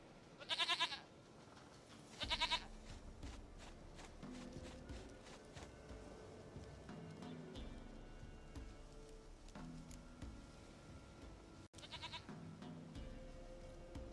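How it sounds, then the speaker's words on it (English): A goat bleats in The Witcher 3 video game, with two sharp, loud bleats early on and another near the end over a quiet ambient bed with faint footsteps. "Goat of mine, dearest, sweetest goat."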